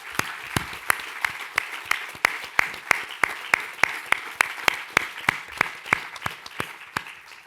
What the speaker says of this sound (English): a huge round of applause for this extraordinary cohort